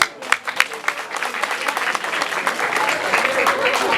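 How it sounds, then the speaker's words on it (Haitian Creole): Audience clapping at a third-anniversary celebration, a dense, steady round of applause that starts in scattered bursts and quickly swells to a sustained level, with a few voices mixed in. "On nous applaudit."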